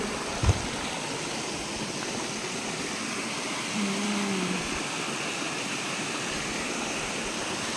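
A creek flowing over slippery stones, a steady full rushing wash of water throughout, with a soft low animal call in the middle and a brief knock near the start.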